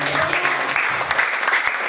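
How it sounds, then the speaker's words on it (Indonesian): A church congregation cheers and claps in praise to God, a dense burst of applause with shouting voices, loud and sustained across the whole moment. "Berikan sorak-sorai buat Tuhan"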